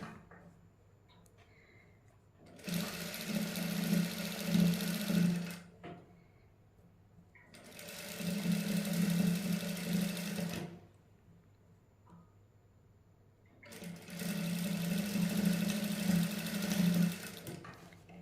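A sewing machine runs in three bursts of steady stitching, lace being sewn onto a sleeve, each run lasting a few seconds with quiet pauses between, close and clear.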